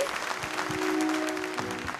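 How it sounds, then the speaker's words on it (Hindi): Audience at a police awards ceremony claps for an award winner, a short burst of moderate applause with a faint tonal hum and murmur beneath it. "जोरदार तालियां हो जाएं हमारे विनर के लिए"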